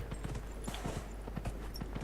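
Horse hooves clip-clop at a steady trotting rhythm in the Dragon Age Inquisition video game, a series of close, even knocks over low background rumble.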